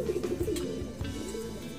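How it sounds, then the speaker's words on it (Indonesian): A black Bali pigeon with an ivory beak, a breed native to Gianyar regency, coos softly and continuously in low, throaty rolling notes, close by and with no talk. "ini memang merupakan endemik merpati Bali khas Kabupaten Gianyar"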